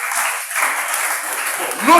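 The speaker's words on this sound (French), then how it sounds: "Acclamez pour vous." A church congregation applauds during a sermon, a brief burst of clapping that fills the clip at an even level.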